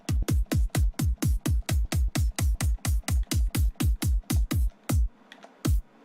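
A run of about twenty synthesized kick drums plays in a fast, steady pattern, each hit a punchy transient whose sub pitch sweeps downward, followed by a short pause and two final kicks, with no talking.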